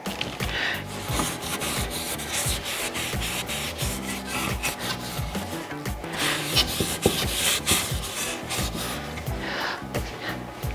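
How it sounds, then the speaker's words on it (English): A wooden tabletop is scrubbed by hand with firm pressure, producing a continuous rhythmic rubbing and scraping close by, with no talk. "I'm going to clean the tabletop here"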